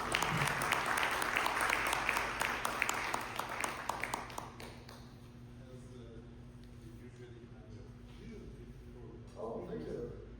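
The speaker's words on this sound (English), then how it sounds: "Please join me in applauding our speaker." Audience applause for a speaker at a talk, a fairly faint crowd clapping that is strongest at first and fades after a few seconds, leaving quiet room tone with brief voices near the end.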